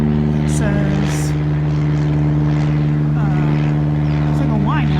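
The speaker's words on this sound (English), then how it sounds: "And there's an airplane above." A propeller airplane flies overhead above a home garden, its steady, loud droning hum running throughout while a person talks over it outdoors.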